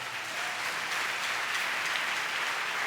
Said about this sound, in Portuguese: Você pode aplaudi-lo nesta hora?